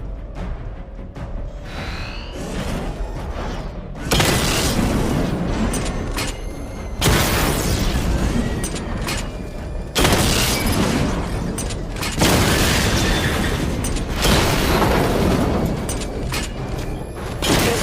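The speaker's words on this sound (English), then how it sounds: "Charge up missile barrage to level 2 and destroy 4 active targets to complete diagnostic test." Missile barrage explosions in the video game Batman: Arkham Knight, heavy booming bursts arriving in repeated loud waves of dense rumbling impacts, with brief quieter gaps between volleys.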